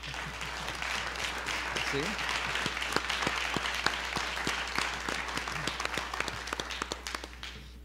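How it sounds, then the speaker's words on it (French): Audience applause fills an auditorium at the Sorel-Tracy cégep for two municipal election candidates during a 2021 debate, a steady dense wash of claps with a few sharper ones, while a voice briefly speaks over it. "je vous invite à les applaudir"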